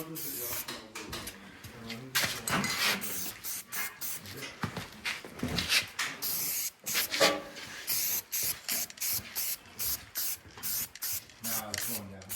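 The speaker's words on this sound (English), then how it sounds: "Right now I'm spraying on a weldable primer to protect all the overlapping surfaces." Rapid bursts of weldable primer spraying from a spray can onto the overlapping frame surfaces of a 1957 Series 1 Land Rover pickup, hissing in short, repeated pulses, close up, with occasional pauses between sprays.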